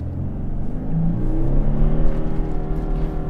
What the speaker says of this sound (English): left foot on the brake, right foot on the accelerator, revving the motor